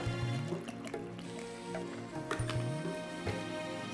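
Water poured into a potato curry with chopped green chillies in a pan, a steady close gurgling trickle with bubbly drips over a constant low background hum, no talking.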